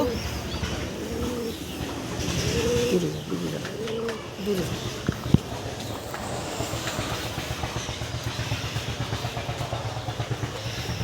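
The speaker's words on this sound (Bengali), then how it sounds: "দেখতে পাচ্ছ, এই যে কবুতর, এই বয়স থেকে ওকে শিকারি করব।" A domestic pigeon coos close by in soft repeated rolling phrases, then falls quiet while a steady rhythmic mechanical chugging continues in the background.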